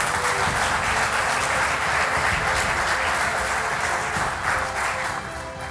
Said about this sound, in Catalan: Podeu aplaudir, animar.